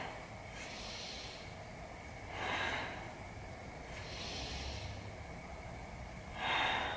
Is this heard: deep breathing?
yes